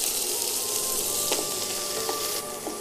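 Five-spice seeds, chopped ginger and chili fry in hot oil with a steady bright sizzle, punctuated by a few soft stirring clicks near the end.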